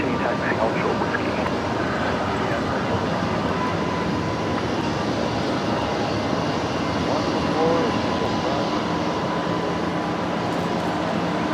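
A plane comes in to land at Brisbane Airport at night in a strong crosswind of up to 20 knots, its engines a continuous broadband roar that holds steady throughout, with a voice talking over it.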